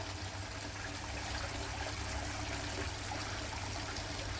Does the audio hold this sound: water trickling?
yes